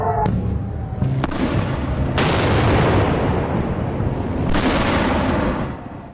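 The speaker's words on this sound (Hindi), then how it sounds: "जो तस्वीरें मैं आपको दिखा रहा हूं, मिसाइल अटैक की तस्वीरें।" Missile attack explosions in news footage: a continuous loud roar of blasts and crackling bursts, with two sharp heavy booms standing out, dense and harsh throughout before fading at the end.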